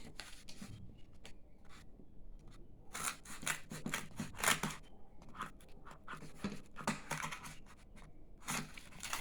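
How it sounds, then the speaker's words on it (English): Scissors snip and trim a piece of cardboard, a run of close, crisp cuts and rustles with short pauses between, quite faint throughout. "And trim the sides with a scissor of the cartoon"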